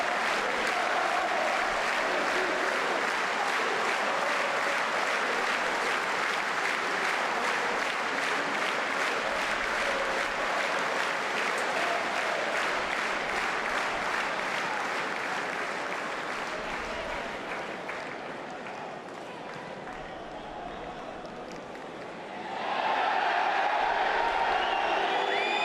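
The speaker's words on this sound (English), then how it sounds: "The crowd booing the referee's assistant" Crowd noise fills a stadium at a third-division German football match between SC Freiburg II and Borussia Dortmund II, fans booing a referee's assistant: a sustained loud roar from many voices that eases briefly and then swells again.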